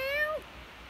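A pet cat gives one clear, close meow that rises and then falls, followed by quiet room tone.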